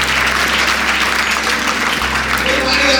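A school gathering claps loudly for a grandmother, a dense, sustained crowd applause lasting the full stretch with a steady low hum beneath it.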